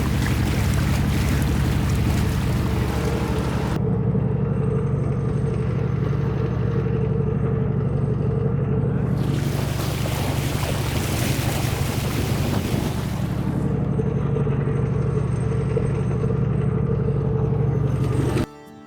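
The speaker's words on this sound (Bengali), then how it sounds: "এখন আমাদের নৌকা আমাদের নিয়ে রয়েছে পদ্মার একদম মাঝ বরাবর দ্রুত গতিতে ছুটে চলতেছে" A boat speeding across the middle of the Padma river, steady low engine drone with rushing water and heavy wind buffeting the microphone, loud and continuous throughout, no voices.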